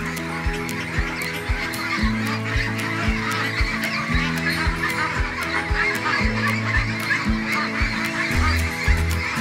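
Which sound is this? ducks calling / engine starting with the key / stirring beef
ducks calling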